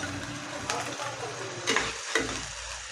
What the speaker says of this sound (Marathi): तर कढई तापलेली आहे तर त्याच्यात आता आपल्याला कांदा घालायचा